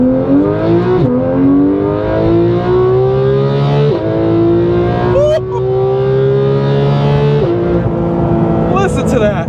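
A Porsche 911 GT3 with an aftermarket exhaust and tune, in PDK sport mode, accelerating hard from inside the cabin, its engine note climbing steadily in pitch with quick gear shifts, loud and close throughout.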